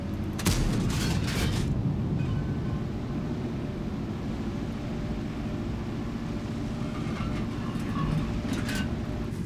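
A tank engine in World of Tanks drones with a steady low rumble and a rough, grinding texture, plus a few brief clanks near the start and end.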